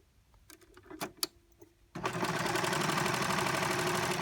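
A Baby Lock Celebrate serger sewing a rolled edge on fabric: a few clicks and taps, then the machine starts and runs with a steady, fast, loud mechanical whir right up close.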